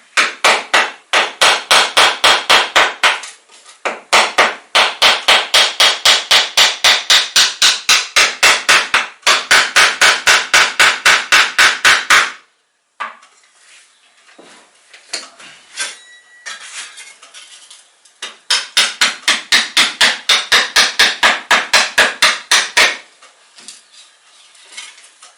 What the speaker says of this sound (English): You see how I'm getting my fingers out of the way with the hammer?